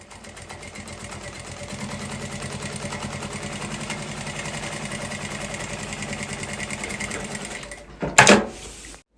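A sewing machine topstitching a fabric pencil case runs at a steady, fast, close buzz for about eight seconds, then stops with a brief sharp clatter.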